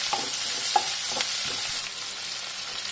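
Chopped onions and green chillies fry in a pan with a steady sizzle, while a spoon stirs through them in a few quick scraping strokes.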